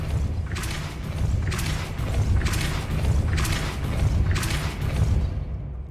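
A stone mechanism in Hogwarts Legacy grinds and rumbles as it rises and lowers after a Depulso spell, with five rough swelling bursts over a steady low drone and game music.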